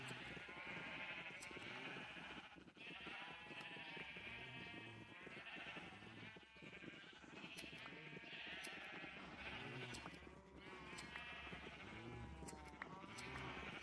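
Sheep in Minecraft bleat over and over, several overlapping calls repeating across the whole stretch at a steady, loud level, with no talk.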